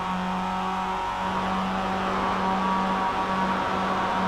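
A Mazda race car in the iRacing Advanced Mazda Cup at the Nürburgring Nordschleife holds a steady, loud engine drone through a corner, the pitch barely wavering, with no voices.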